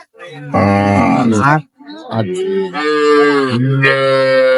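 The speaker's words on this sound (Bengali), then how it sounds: "গাভী" Cows and calves at Ambari cattle market in Dinajpur give loud, drawn-out moos close by, several long calls following one another with a brief gap between them.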